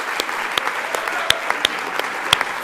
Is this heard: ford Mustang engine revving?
no